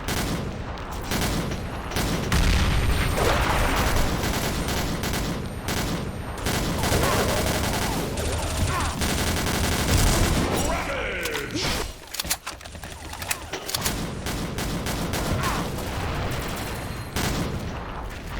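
Sustained gunfire from the God Guardian gun in a Team Deathmatch round of a first-person shooter, dense rapid bursts with explosions and effects layered throughout, loud and continuous.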